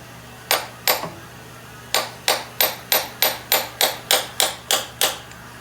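A hammer taps a transmission axle seal into place on a Ford Escape, sharply and steadily, two blows followed by a brief pause and then a quick even series of about a dozen strikes, close and clear.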